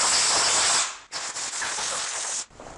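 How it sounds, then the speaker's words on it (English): Compressed air blasts dust off the latch bolt prep of a pallet wood door before varnishing, two strong steady hissing bursts split by a brief pause. "Compressed air works particularly well on little sharp edges like this latch bolt prep here."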